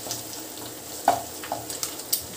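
Tomato, ginger-garlic paste and turmeric frying in oil in a pan, stirred with a few short scraping strokes and clicks over a low sizzle, close and brief.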